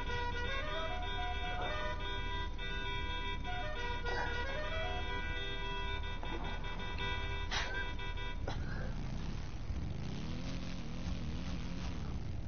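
Police siren wails in a GTA driving scene, rising and falling over engine noise and steady game ambience, with a short electronic sweep near the end.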